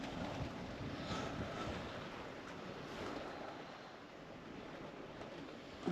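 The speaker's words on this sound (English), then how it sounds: "I don't know if the camera picks up the wind, but it is still blowing a hoolie out there" Strong wind blows steadily outside a vintage motorhome parked in Cornwall, a broad continuous rushing roar with gusty buffeting against the microphone, no voices.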